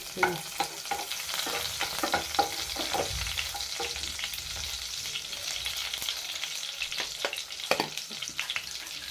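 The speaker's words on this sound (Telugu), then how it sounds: "కొంచెం జీలకర్ర వెల్లుల్లిపాయలు పచ్చిమిర్చి వేసుకొని కొంచెం ఫ్రై చేసుకోవాలి" Cumin, garlic and green chillies fry in oil in a kadai, a steady crackling sizzle with repeated scrapes and clinks of a stirring spoon, close and fairly loud throughout.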